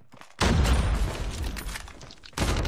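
Sniper rifle fire in the mobile shooter Call of Duty Mobile, a loud booming shot that rings out and decays, then a second sharp blast near the end, close and punchy.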